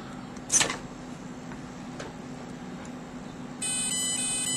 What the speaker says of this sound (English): There's the programming tone.